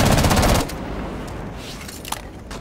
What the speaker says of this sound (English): Okay, I'm shooting now.